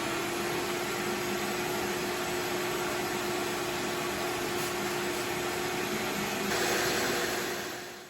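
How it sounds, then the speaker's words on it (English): Vacuum cleaner sucking flour out of the fibers of a carpeted car floor mat, a steady loud whooshing drone that runs unbroken throughout with no voices. "This vacuum's doing a great job of picking up that flour."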